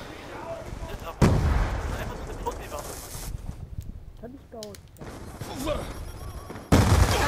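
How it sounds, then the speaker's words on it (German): Call of Duty Black Ops 2 gunfire crackles in rapid bursts, with two heavy, loud shots standing out near the start and end, while players talk over the game. "er gibt hier einen Headshot"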